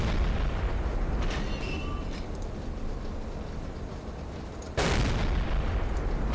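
Enemy warship gunfire against a U-boat in the submarine game Silent Hunter 3, a heavy rumbling ocean-battle background broken by a single loud, sudden boom late on that lingers in a deep roar.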